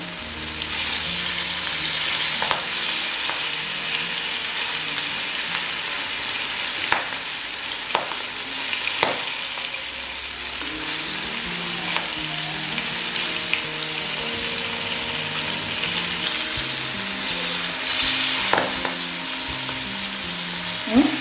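Milkfish pieces shallow-frying in oil give a steady, loud sizzle for over twenty seconds, broken by sharp pops and spits at irregular intervals, close up and with no one talking.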